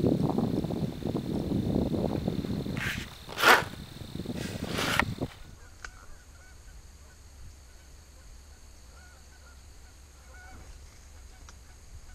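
Geese honk a few times in the first five seconds on an early-season Minnesota goose hunt, with one louder call near the middle, then the field falls to quiet background hiss and faint distant sounds.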